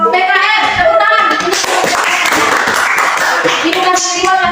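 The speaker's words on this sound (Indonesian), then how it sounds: "Kita kasih rewardnya kepada kelompok PKR. Tepuk tangan." A classroom of students claps together for a discussion group during a lesson. The brisk, dense clapping runs steadily throughout, with voices mixed in underneath.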